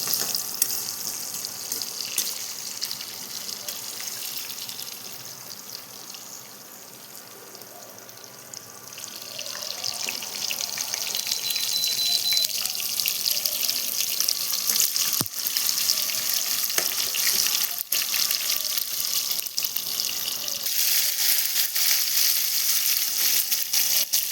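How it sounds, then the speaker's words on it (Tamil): Cumin, fenugreek, black pepper, ginger and garlic sauté in a pan for a fish kulambu, giving a steady broadband hiss that grows louder and denser partway through, with no talking. "அதில் சீரகம், வெந்தயம், மிளகு, இது அப்புறம் இஞ்சி, பூண்டு எல்லாம் போட்டு நல்லா கொஞ்சம் பொன்னிறமாக வதக்கலாம்."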